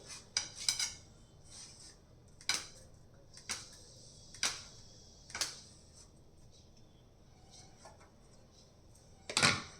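A knife cuts 100 grams of paneer into small cubes on a board, giving sharp, isolated taps spaced about a second apart, some in quick pairs, close and clear against a quiet room.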